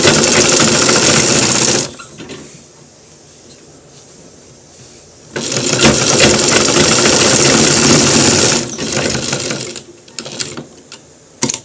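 An electric sewing machine stitching a shirt collar, whirring loudly in two long bursts with a quiet pause between them, followed by a shorter, softer run and a few clicks at the end.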